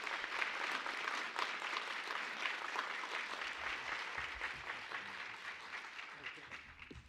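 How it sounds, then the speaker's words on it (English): An audience at a gubernatorial candidates' forum applauds steadily, a thick, continuous wash of many hands clapping that eases only slightly toward the end. "can you guys give him a round of applause as he heads out to his next commitment?"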